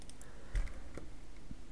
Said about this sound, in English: First click here and then type uh, services